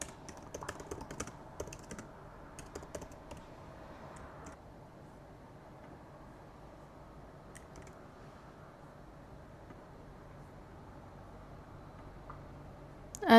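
Typing on a computer keyboard to write text into a markdown file: a quick run of close, crisp key clicks for the first few seconds, then sparser, fainter taps over a low background hiss.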